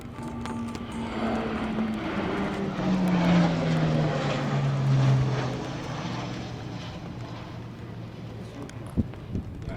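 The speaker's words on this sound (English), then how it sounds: "One Embraer AWNC aircraft and 2 Sukhoi Su-30 MKI aircraft." An Embraer AEW&C aircraft and two Sukhoi Su-30 MKI jets fly past at the Aero India airshow, a broad engine roar swelling and fading at a distance with a slowly falling tone.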